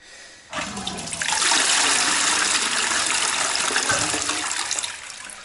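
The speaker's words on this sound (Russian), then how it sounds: "Еще раз смываем и смотрим на результат" A household toilet flushes after cleaning, with a sudden loud rush of water that swells into a steady roaring gush and then slowly tapers off. The sound is close and comes without any voices.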